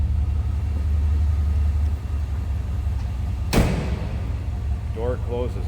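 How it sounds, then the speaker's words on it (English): A single solid door slam on a 1980 Pontiac Turbo Trans Am with T-tops, one sharp close thump over a low steady background rumble, with a brief voice afterward. "Door closes nicely."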